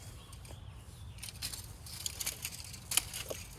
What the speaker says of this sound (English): I'm pulling the mulch around.